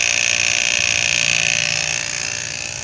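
A vacuum pump hooked to a car's air-conditioning system runs with a loud, steady mechanical drone and high whine up close, easing slightly in level toward the end, with no speech.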